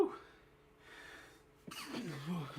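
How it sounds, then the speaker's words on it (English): Two quick, soft sneezes from someone in a fight-night watch-party setting, a short one then a sharper one, caught close amid room noise and talk. "Little double sneeze."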